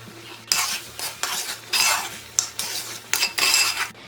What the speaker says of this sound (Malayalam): എടുത്തു വെച്ചിരിക്കുന്ന കാഷ്നട്ടും കടുക് പൊടിച്ചതും കൂടി ചേർത്ത് ഇളക്കി കൊടുക്കാം